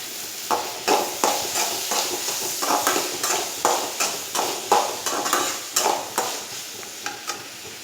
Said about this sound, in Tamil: திருவன தேங்காய் கொஞ்சம் போட்டு நல்லா வதக்கிக்கணும்